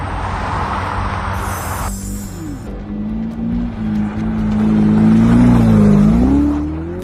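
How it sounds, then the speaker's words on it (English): A Ferrari Stradale drives on an icy road, its engine humming and then rising in a steady, swelling rev toward the end, loud and close with no talk. "This Ferrari Stradale handles ice like it's dry pavement."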